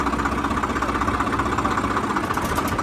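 A tractor engine idles close by with a steady, loud, rumbling chug and a rhythmic knocking pulse that holds evenly the whole time, no talking.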